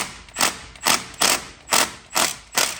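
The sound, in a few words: ratchet loosening brake caliper bolt on Honda Element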